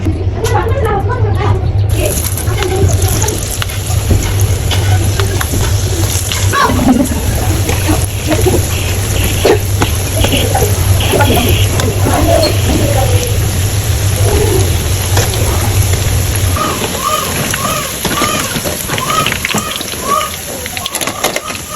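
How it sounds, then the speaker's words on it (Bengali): Onions for Bengali piyaju frying in oil, a steady dense crackling sizzle that runs on without pause, with occasional clinks and faint background sounds over it. "এখন আমি পেঁয়াজগুলো ভেজে নেবো।"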